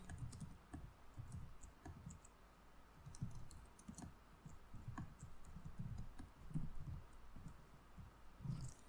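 Keys clacking on a computer keyboard while writing C code for a file encryptor, a steady run of soft close clicks in irregular bursts, with no talking.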